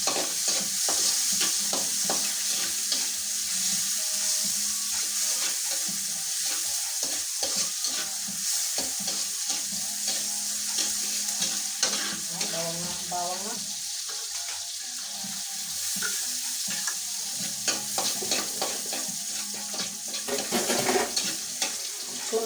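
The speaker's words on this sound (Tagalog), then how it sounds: "Ganun ako maggisa. Pinuuna ang kamatis sa bawang." Tomatoes and garlic sauté in a pan, tomatoes added first, giving a continuous close sizzle with stirring scrapes and clatter, plus some running-water and sink sounds.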